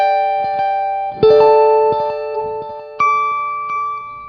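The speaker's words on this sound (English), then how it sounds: "you have it just on with the delay, you get this little slapback" Clean electric guitar notes and chords through a Joyo DC-15S practice amp ring out, each followed by a quick, short delay repeat that gives a slapback feel.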